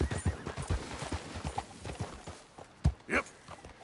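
A horse in Red Dead Redemption 2 gallops with a quick, rhythmic clip-clop of hooves up close, then lets out a short whinny near the end.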